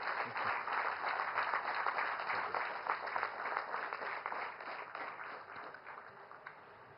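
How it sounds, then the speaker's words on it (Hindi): A large audience applauds steadily and loudly for Prime Minister Narendra Modi at the inauguration of the Nalanda University campus in Rajgir, Bihar. The dense clapping keeps an even level for about seven seconds. "तालियों की करतल ध्वनि के साथ हम आपका स्वागत करते हैं."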